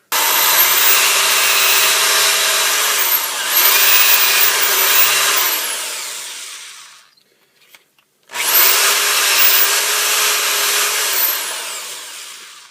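Brass pen-blank tube being squared with a barrel trimmer in a power drill, a loud steady high whine in two long bursts separated by a short pause.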